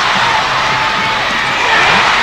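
A basketball arena crowd of about 14,000 at a 1993 NBL game between the Melbourne Tigers and South East Melbourne Magic cheers loudly and continuously, a dense roar of shouts and whoops filling the hall.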